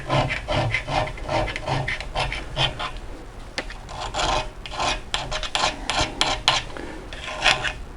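A metal file rasps along the edge of a garden tool in repeated rhythmic strokes, close and fairly loud, with a short pause midway before the scraping strokes resume.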